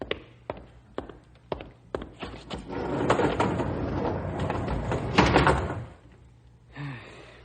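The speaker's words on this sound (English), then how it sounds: "Close the doors, Rube" Car doors closing in an old radio drama: a series of sharp, close thumps and knocks at a steady pace, followed by a longer stretch of rumbling noise.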